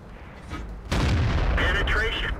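A tank cannon fires in World of Tanks with a sudden heavy boom that rolls into a sustained low rumble, loud and close, followed by higher whining game effects.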